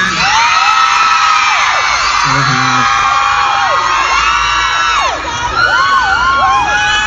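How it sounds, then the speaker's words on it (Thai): A loud crowd screams and cheers continuously, high-pitched shrieks and whoops piling over each other, with a brief dip before swelling again. "เสียงกรี๊ดให้พี่ซินหน่อยฮะ"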